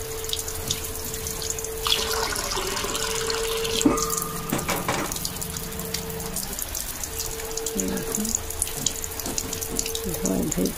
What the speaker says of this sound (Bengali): দেখো, ধোয়াধুয়ি করছি।